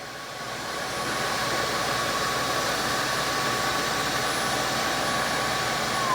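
A Narwal S20 Pro wet floor cleaner runs in turbo mode, giving a steady, loud whooshing roar of motor and suction that swells over the first second and then holds constant.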